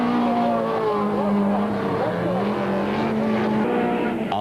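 A Ford Courier race car charges hard around a circuit, its engine a loud sustained drone that shifts pitch through gear changes, with other racing machinery close behind and no pauses in the noise.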